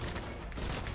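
Rapid, dense bursts of gunfire in the video game Fortnite, loud and continuous throughout a short moment with no speech.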